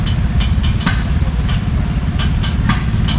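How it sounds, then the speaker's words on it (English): A Harrisburg patron steam engine built in the 1880s, shown running at a threshermen and collectors show, gives a loud, close, steady low chugging with regular rhythmic puffs and clanks. "Only 2 known surviving patron steam engines in the world."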